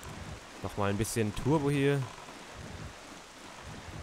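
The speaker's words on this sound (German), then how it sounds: "Na toll, jetzt regnet es auch noch." Rain falls in The Legend of Zelda: The Wind Waker, a steady soft hiss of patter running beneath someone speaking German briefly in the middle.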